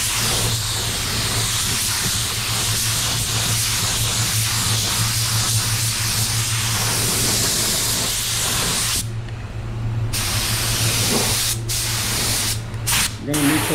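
Spray gun laying down candy red paint in a painting booth, a loud continuous hiss close by that cuts out briefly a few times near the end, with a low steady hum underneath.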